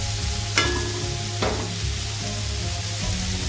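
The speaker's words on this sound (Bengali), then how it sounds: "পেঁয়াজ আর রসুনের সাথে টমেটোটাকেও একটু ভালো করে ভেজে নেব।" Tomato frying with onion, garlic and green chillies in a pan, a steady close sizzle broken by two sharp spatula scrapes and a softer stir near the end, with no talking.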